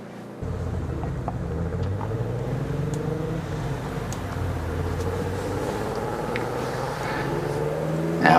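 A historic rally car engine at the Heart of the Hunter Historic Rally, revving with a steady, loud rumble and rising and falling harmonic sweeps, holding at one level throughout and surging slightly louder at the very end.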